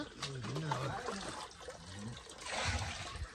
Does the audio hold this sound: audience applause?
no